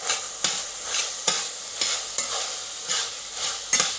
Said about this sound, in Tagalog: Gusto ko parang piniprito ko muna yung tomato paste, eh.